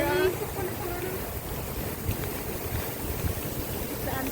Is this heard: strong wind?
yes